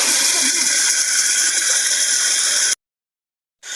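Water from a deep tubewell motor pump rushes into a grass field in a loud, steady hissing gush close by, then cuts off abruptly before briefly resuming.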